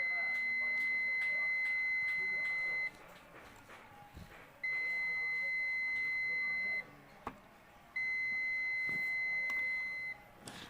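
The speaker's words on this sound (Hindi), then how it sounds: "बारी बारी से तीनों पॉइंट पर चेक करने के बाद में बीप का आवाज़ आ रहा है।" A multimeter in continuity mode beeps while checking points on a Bajaj induction cooktop under repair, three long steady high tones of two to three seconds each, separated by short gaps with clicks and someone talking quietly.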